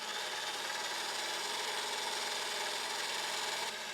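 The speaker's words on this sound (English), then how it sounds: "Continue whisking until your whites are light and fluffy." An electric whisk beats egg whites in a mixing bowl, a continuous even buzzing hum that holds steady throughout, close and alone.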